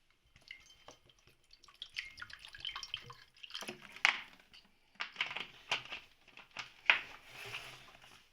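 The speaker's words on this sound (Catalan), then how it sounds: "després posant l'aigua" Water poured into a glass for a classroom candle experiment: irregular close drips and splashes in bursts, with a couple of sharper clinks, fairly quiet overall.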